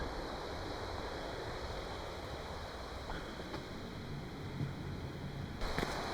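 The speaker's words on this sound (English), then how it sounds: "in this area here there are so many waterfalls" A faint, steady rush from a waterfall in Norway fills the background, distant and unbroken, with no voices.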